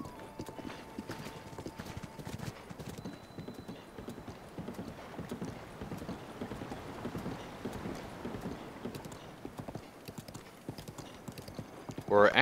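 Horse hooves clip-clopping in a steady galloping rhythm while riding in The Legend of Zelda: Breath of the Wild, moderately loud, with a voice talking over them and a brief whinny near the end.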